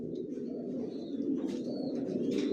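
Johnson grizzle racing pigeons coo softly and repeatedly in a loft, close by, with faint chirps over a low steady murmur and no talking.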